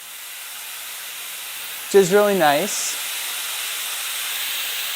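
Steam wand on a La Marzocco Strada AV commercial espresso machine gives a steady, fairly loud hiss through the whole stretch, with a voice briefly speaking over it midway.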